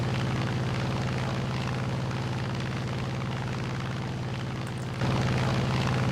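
A heavily loaded aircraft's engine drones steadily in a climb within a video game, a constant, close, loud hum that shifts slightly in tone near the end.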